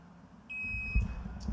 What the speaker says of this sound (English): Fastest on the buzzer.